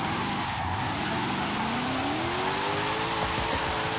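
A 2022 Cadillac CT4-V Blackwing drifting in Forza Horizon 5, its engine droning steadily and rising in pitch as it revs through the slide, with tire noise underneath.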